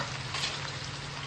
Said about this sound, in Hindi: प्याज फ्राई करके निकाल लूंगी मैं